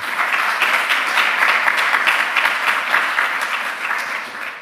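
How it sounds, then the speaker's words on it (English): An audience at a talk on the LHC computing grid gives a warm round of applause to welcome the speaker, producing a continuous, even wash of clapping that fades slightly toward the end. "So please give a warm round of applause for Matt Williams."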